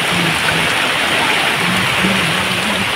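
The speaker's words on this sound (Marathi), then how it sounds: "नेक्स्ट लेवल पाऊस पडतोय" Heavy monsoon rain pours down in a Konkan village, a loud, dense, unbroken hiss that fills the whole stretch at close range.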